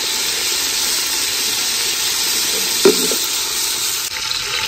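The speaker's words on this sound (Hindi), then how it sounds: "घी गरम हो चुका है, इसमें हम मेथी ऐड कर रहे हैं" Fenugreek seeds sizzling in hot ghee in a pot, a loud, dense, continuous frying hiss with a single short clink partway through; no one speaks.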